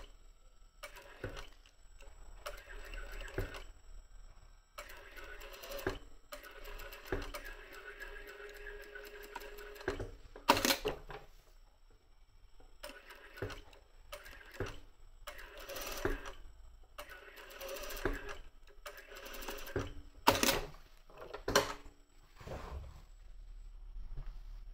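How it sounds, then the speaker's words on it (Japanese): A lockstitch sewing machine stitches a dress in bursts, with short runs of rapid mechanical whirring and ticking broken by pauses and a few sharp clicks, fairly quiet and close. "本縫いミシンで縫っていきます。"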